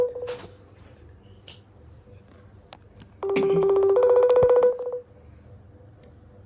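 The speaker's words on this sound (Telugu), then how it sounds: "ఇప్పుడైతే మళ్ళీ మనం ఫోన్ చేస్తున్నాం" A telephone is dialed for a call: a few short keypad beeps, then a loud sustained two-part electronic tone lasting under two seconds, heard close up in a quiet room.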